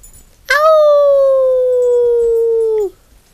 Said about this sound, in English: You don't want to howl?